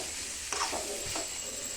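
Cooked val bean pods being stirred with crushed peanuts in a hot pan, a couple of soft scraping strokes over a faint sizzle, close up.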